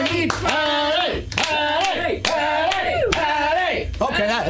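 An audience at a comedy show applauds and cheers for comedian Patty. Continuous clapping runs under loud, repeated whooping and shouting voices.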